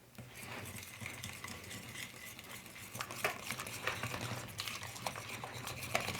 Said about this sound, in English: I like the combination of the honey and the maple syrup. And just mix this around till it's really combined